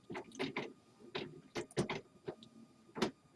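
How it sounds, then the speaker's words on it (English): An inkjet printer runs through a print job, giving a series of irregular mechanical clacks, whirs and ticks from the carriage and paper feed, close but quiet, with no one speaking. "Print. Just do it, printer."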